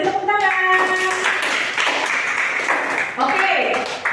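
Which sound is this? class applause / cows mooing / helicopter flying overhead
class applause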